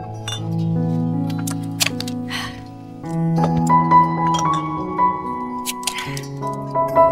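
Drinking glasses clink together in a toast, producing a few bright, brief chimes scattered over steady background music.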